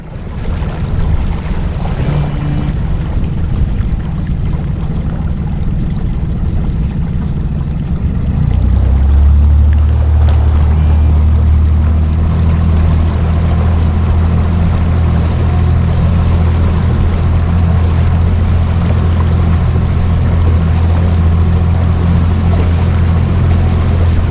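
A Savage Gannet 435 Widebody boat's motor hums steadily and low throughout, with water and wind noise washing over it; the engine note deepens partway through.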